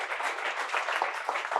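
Brief steady clapping from an audience at a platform engineering meetup, a moderate wash of applause for the speakers without any voices.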